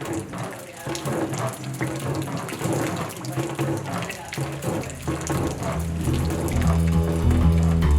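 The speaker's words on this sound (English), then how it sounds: "when you turn on your faucet, you know you're drinking healthy, good tasting water" Tap water running steadily from a faucet, a continuous close splashing wash that grows slightly fuller toward the end.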